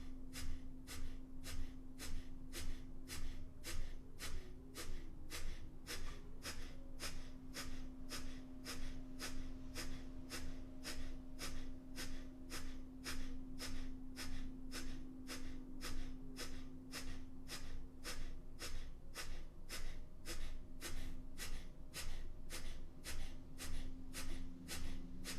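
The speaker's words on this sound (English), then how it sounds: "Now begin a breath of fire," Rapid, evenly spaced forced exhalations of breath-of-fire breathing, belly-pumped bursts repeating at about two per second for the whole stretch, close and fairly quiet over a faint steady hum.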